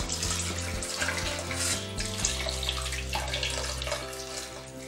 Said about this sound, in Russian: И очень аккуратно заливаем наше сало.